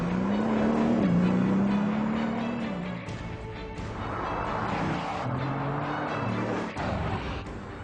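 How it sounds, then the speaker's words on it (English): A Bugatti Veyron's 16-cylinder engine produces a loud, sustained tone whose pitch rises and falls, with a second surge later on. No one speaks. "you can actually hear the unique sound of the Veyron before you see it."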